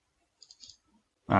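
A few soft, quick computer mouse clicks while editing in Photoshop CC 2020, faint and close in a quiet room, followed by a voice starting to speak.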